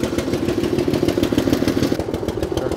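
Small engine of a Japanese self-propelled cart running just after starting, a close, steady mid-pitched putter with rapid regular firing pulses and light mechanical clatter.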